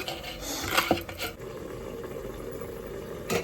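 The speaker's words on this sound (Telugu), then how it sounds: "కొత్తిమీర కట్ చేస్తున్నాను" Fresh coriander being chopped with a knife in a home kitchen while a mushroom curry is made, giving a few scattered dull knocks and clinks on a board, strongest near the start and again at the end.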